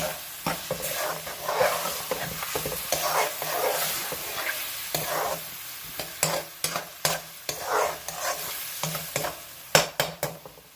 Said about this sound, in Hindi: इसको 2-4 मिनट के लिए मसाले के साथ मैं भूनूंगी।